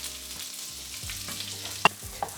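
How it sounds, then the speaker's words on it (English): Onions sizzle quietly in a pan with freshly added oil, a soft, steady frying hiss broken by a single brief clink near the end, with no talking. "I'm now adding a little more oil on my pan"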